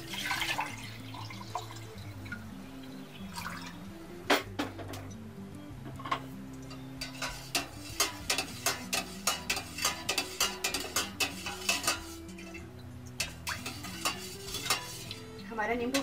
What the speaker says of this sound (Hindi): अब हम इसमें पानी को मिक्स कर देंगे।